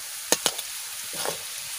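Eggs fry with softened potato and carrot for fried rice, a faint sizzle broken by two quick scraping stirs early on and a softer rustle later.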